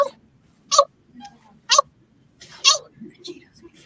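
A human voice imitates a cheetah's chirp, giving three or four short, sharp, high chirps spaced about a second apart with quiet gaps between them.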